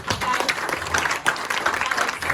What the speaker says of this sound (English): Let's give it a round of applause to Emma.